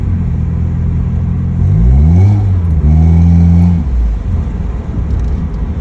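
A Honda car engine with 163.9 miles on it idles with a low rumble, then revs up twice, its pitch rising and falling, before settling back to a steady drone.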